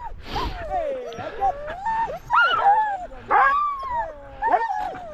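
Several sled dogs whine, yip and whimper in excited, pitch-bending bursts, close by, with occasional short barks.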